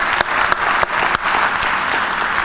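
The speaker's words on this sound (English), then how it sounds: "That deserves a round of applause." An audience at a February 2018 Q&A session breaks into loud, sustained clapping that fills the room evenly, with a few sharper individual claps popping out above the dense wash of hands.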